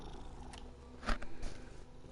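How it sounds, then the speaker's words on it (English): A pet cat purrs close to the microphone, a continuous low rumbling with brief scratchy rustles, quiet and alone without speech. "Everybody can hear your purrs."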